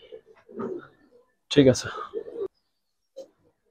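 An aluminium-necked pet pigeon gives short cooing bursts at close range, and someone speaks briefly between the calls.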